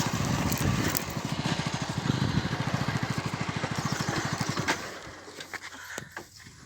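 A motorcycle engine idles nearby with a rapid, even putter that fades and stops partway through, leaving quieter outdoor farm ambience.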